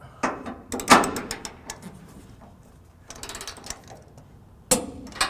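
Trailer hitch bolts are tightened on a 1998 Chevrolet pickup, producing bursts of loud ratcheting clicks and metallic clanks. Quieter stretches fall between the bursts, and a sharp clack comes near the end. No voices are heard.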